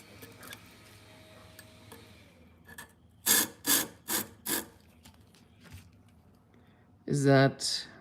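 Scissors drawn through a Twice as Sharp scissor sharpener make four distinct rasping strokes in a row, then a longer, louder scrape near the end, close by, with faint background noise between them.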